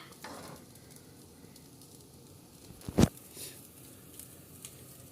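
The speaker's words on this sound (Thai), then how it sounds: "ตอนนี้นะครับ เดือดแล้วนะครับ" Chicken jungle curry (kaeng pa) simmers in a pot with a faint, low bubbling texture that holds steady throughout, broken once by a single sharp knock near the middle.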